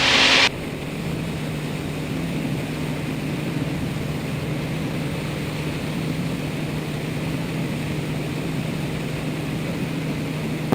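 A small aerobatic airplane's propeller engine drones steadily and loudly while the aircraft loops upside down over the top. A louder rushing burst comes at the very start, then the engine holds an even hum.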